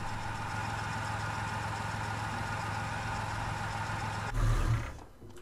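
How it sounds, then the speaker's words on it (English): An offroad pickup truck in the DayZ video game idles with a steady, even engine hum for several seconds, then briefly rises in a low rumble before fading out. "Amazing the engine doesn't aggro zombies."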